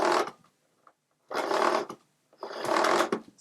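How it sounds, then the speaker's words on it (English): A Hotpoint SLD10 bagged/bagless trolley vacuum cleaner rewinds its cord automatically in three loud, close, rattling whirs, each about half a second long, with short silent gaps between them. "So it's got automatic cord rewind."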